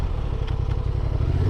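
A 2024 Honda Transalp XL 750 ridden across desert terrain, its engine a steady loud droning rumble with faint clattering, close and continuous with no voices.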